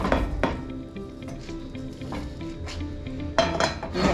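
A Spanish tortilla is flipped in a frying pan, with clattering pan and utensil knocks, scraping and a faint sizzle throughout, and sharper metallic hits at the start and near the end.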